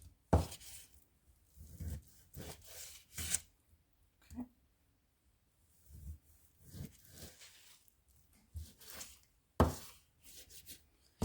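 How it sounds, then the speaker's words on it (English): A kitchen knife cuts an Aldi sirloin roast into thick slices on a board. Scattered, quiet strokes arrive irregularly with near-silent pauses between them. "cut them into thick slices"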